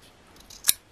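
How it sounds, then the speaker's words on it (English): Scissors make a single crisp snip while rough cutting paper for a junk journal, close and clear against near silence. "I'm going to put a piece of it just going across the bottom here, and I'm just going to rough cut it in"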